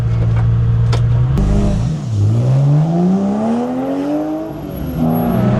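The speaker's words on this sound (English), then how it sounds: "we're about to step out onto Goodwood in Dan's homemade 996 race car" A loud homemade Porsche 911 996 race car engine at Goodwood idles low, then revs and climbs steadily through the gears, with a roaring, rising whine heard from inside.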